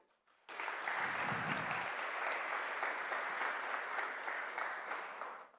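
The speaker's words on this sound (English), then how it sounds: "Big round of applause to them, too" A conference audience bursts into applause after a brief quiet moment, the clapping swelling quickly to a full, steady roar and holding before tapering slightly at the end.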